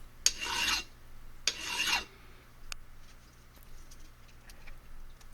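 Close, harsh rasping of a file across rough metal on a Webley Premier MK II air pistol, two distinct strokes followed by quieter light scraping.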